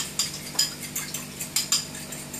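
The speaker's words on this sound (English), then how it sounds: "stir it all well." Chili, light soy sauce and minced shallot being stirred in a small bowl, with a spoon clinking and scraping against the sides in a steady rhythm of short, close taps.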